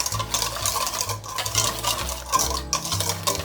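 Granulated sugar is stirred into a chocolate cream pie mixture in a bowl, making a quick, rhythmic scraping and swishing up close, with no voices.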